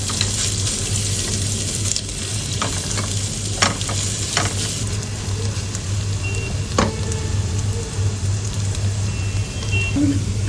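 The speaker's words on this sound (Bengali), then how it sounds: "ঘিটা গরম হলে কেটে রাখা অবশিষ্ট পেঁয়াজটা এর মধ্যে দিয়ে দেবো পেঁয়াজটা একটু ভালো করে ভেজে নিতে হবে" Onions fry in hot ghee for Peshawari-style chicken biryani, a continuous close sizzle with scattered stirring clicks over a low steady hum.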